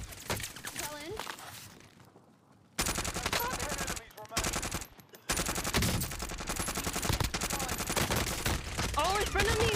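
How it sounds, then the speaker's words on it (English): Rapid bursts of automatic gunfire from a video game shootout, loud and near, continuing with brief drops and pauses, while players talk over it. "Lund, he's shooting at me right now."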